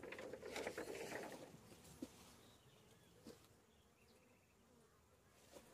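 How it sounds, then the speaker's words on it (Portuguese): Honeybees buzz steadily inside a hive box, a dense insect drone with louder swells early on and a few sharp knocks, settling into a softer hum without speech. "tem bastante abelha, né? Tá cheia de abelha."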